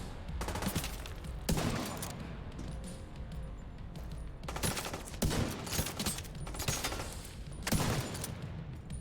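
Bursts of rapid gunfire with exploding rounds in the space game Elite Dangerous, dense crackling volleys starting and stopping several times over a steady background rumble, with no voices.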